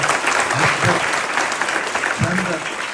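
A crowd claps loudly and steadily for a few seconds, a dense wash of applause with a voice audible underneath.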